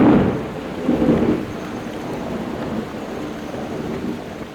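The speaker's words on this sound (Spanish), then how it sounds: "Mientras escuchaba que empezaba a llover" Thunder rumbles low at the start as rain begins falling in a steady hiss, with a second roll shortly after and the shower continuing alone.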